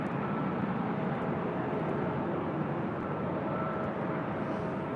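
A jet airliner landing on runway 24 left at LAX makes a steady, broad roar that stays loud and even throughout, with no voices.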